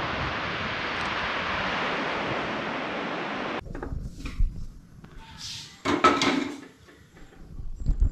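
Sea waves washing onto a beach at Dapoli on the Konkan coast, a continuous broad surf roar for the first few seconds that then cuts to quieter surroundings with scattered close knocks and handling noises.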